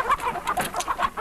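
Chickens cluck close by in a quick run of short, throaty calls, about eight bursts in just over a second, rising and falling in a steady rhythm with no talk over them.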